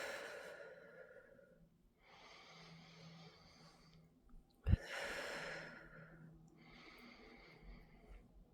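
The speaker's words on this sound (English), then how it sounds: "Breathing in those healing, rejuvenating energies and breathing out those things that no longer serve." Slow, deep breaths drawn in and let out during a calm ASMR Reiki session, several long airy inhales and exhales in a steady rhythm, close and soft, with one sharp bump midway and no talking.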